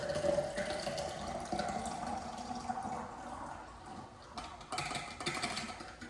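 Film developer pours out of a development tank after processing 120 film, a quiet trickling and splashing stream of liquid that briefly eases off and then gushes again.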